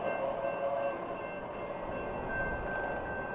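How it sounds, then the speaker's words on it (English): Steady rumbling and clatter of a passing train at a railroad crossing, with a faint sustained horn-like tone running throughout, continuous and fairly close with no talk. "we wait for the train to cross"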